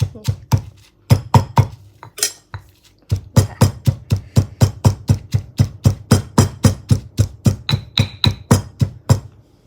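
Chili, sugar and small garlic cloves are pounded together for nam prik kapi. Loud, close, steady rhythmic thuds come at a quick even pace, with a short break near the start before the beat resumes.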